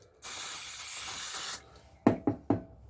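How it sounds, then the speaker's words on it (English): Brake cleaner sprays onto a motorcycle brake caliper in one sustained, close hiss lasting over a second, followed by three quick knocks. "And same again, bit of brake cleaner."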